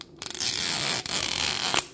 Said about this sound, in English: I love that zip sound